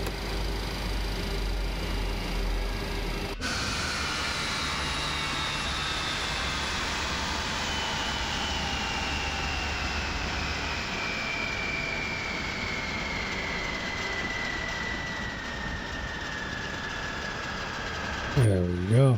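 FlightSim Studio 727-200F jet engines shutting down in MSFS 2024, a steady whine that cuts off, then slowly falls in pitch as it spools down, with a brief click near the end.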